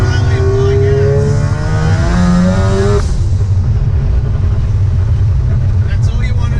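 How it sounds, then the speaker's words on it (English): Car engine in third gear pulling under load on an E85 flex-fuel tune with a Haltech NSP ECU during a road-tuning run, rising harmonics as it accelerates for about three seconds before easing off into steady road and cabin noise, loud and close. "So we use third gear so we get a good amount of load on the engine."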